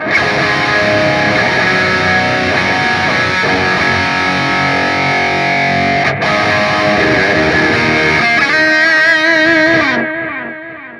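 Electric guitar played through a Hotone Ampero with high-gain distortion, loud sustained chords and notes ringing for several seconds before a final chord decays and cuts off.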